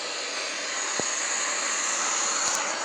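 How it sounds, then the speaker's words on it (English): Airbus A330-200 on final approach in Microsoft Flight Simulator, a steady broadband jet engine roar with hiss, constant and loud throughout, with a couple of brief thumps and no talk. "And now we are approaching for landing with the Airbus A330 200 aircraft over here."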